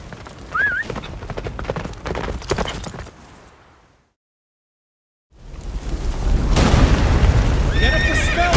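Horse galloping and whinnying in The Witcher 3 video game, a neigh near the start, clopping under game music, a brief silent gap, then louder galloping with harmonic whinnies building toward the end.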